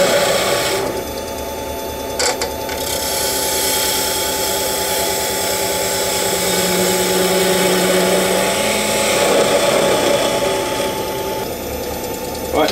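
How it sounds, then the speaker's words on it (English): Spindle gouge with a continental grind shaping a wooden ball on a lathe; loud, steady whirring and scraping that runs continuously, no voices. "So I'm going to want to use my spindle gouge now."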